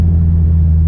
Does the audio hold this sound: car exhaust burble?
yes